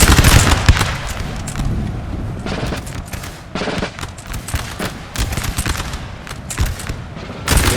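Russian musket volleys in Napoleon: Total War, at the 1799 Battle of Krabbendam, crackle out in dense, ragged bursts of gunfire, loud and repeated over rumbling battle noise.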